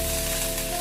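Tempering for a tiffin-centre style peanut chutney, with dried red chillies and curry leaves frying in a pan, makes a brief, steady close sizzle under a faint humming tone.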